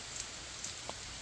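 Steady rain falling outdoors on a walk along a dam boardwalk at Thenmala, a soft continuous hiss with a few faint drop ticks and no voices.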